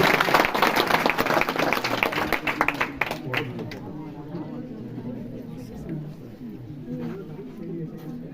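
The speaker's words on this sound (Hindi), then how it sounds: "तो इनके लिए जोरदार तालियां हो" Audience at a school event applauding a Class 10 student named a speech-competition winner: dense, loud clapping that thins out after a few seconds into scattered claps, with chatter and a voice continuing beneath.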